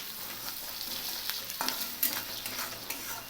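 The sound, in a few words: stirring Kolhapuri upit mixture in hot pan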